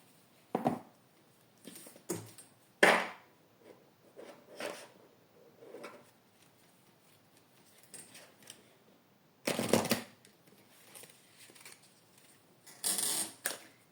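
Disney oracle cards being shuffled and drawn, giving a series of short papery bursts and flutters with pauses between them, close and moderately loud, no talking.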